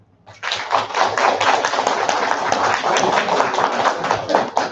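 An audience at a model-kit Q&A session at a fan convention breaks into applause, a dense, steady round of clapping that starts abruptly and holds strongly for about four seconds.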